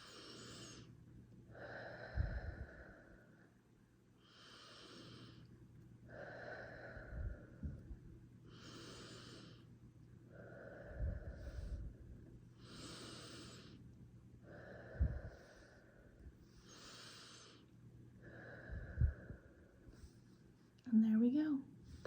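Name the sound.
deep breathing out while using a mindful breathing stick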